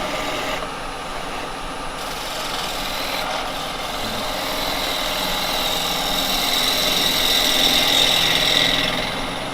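A wood lathe turns a cherry blank at a slow 1200 RPM, giving a steady mechanical drone with scraping from carbide tools that grows louder toward the end, with no voices.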